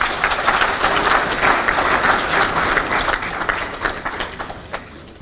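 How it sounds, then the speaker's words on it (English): Sustained audience applause at an award ceremony honouring the Gambia as best travel destination, with many hands clapping steadily and densely, tapering slightly toward the end. "a round of applause"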